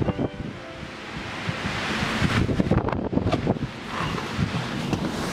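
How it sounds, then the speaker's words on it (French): Strong wind roars and buffets against the microphone, with gusty rumbling and rustling throughout. "mais on a énormément de vent"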